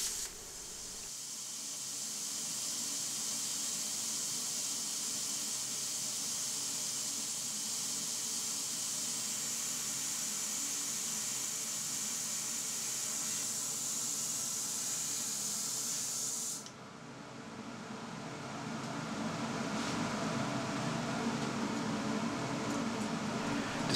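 Titanium Flux 125 plasma cutter slicing 1.5 inch steel angle on a simple fixture with old consumables, a loud steady hissing roar of the arc and air that cuts off near the end, leaving a quieter airy rush.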